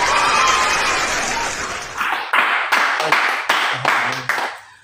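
An audience in a church gathering breaks into applause: dense clapping that fades into a few separate, sharp claps that keep coming and then stop, fairly close and loud.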